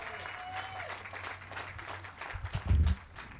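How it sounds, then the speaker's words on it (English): Graduation audience applauding teachers, staff and administrators at a high school ceremony, a steady wash of clapping that swells toward the end, with a thin sustained tone in the background. "Give them a round of applause, ladies and gentlemen"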